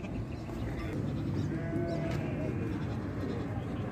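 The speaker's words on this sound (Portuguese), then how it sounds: "Vamos vender as cabras?" Goats bleat faintly at a busy livestock market in Ouricuri, Pernambuco, their cries mixed into a dense crowd murmur and background chatter.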